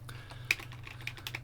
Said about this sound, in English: my typing is rubbish